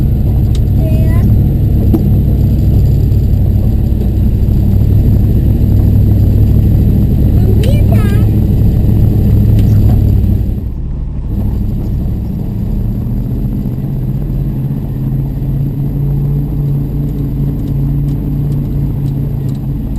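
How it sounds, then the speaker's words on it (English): An old wrecker tow truck climbs a long uphill grade, its engine droning loud and steady, dropping to a lower, rougher tone partway through as the load changes. "Alright, we gotta head out of here, and it's uphill almost all the way."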